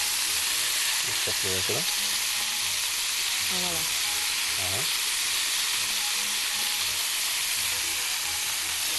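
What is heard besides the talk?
shish tawook skewers sizzling while being turned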